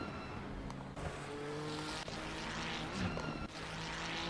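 A Ferrari race car in Assetto Corsa Competizione at Brands Hatch, heard from a Maserati MC4 GT4, roars past with a loud, sustained engine note that shifts pitch as it overtakes. Both engines blend in a continuous, close drone.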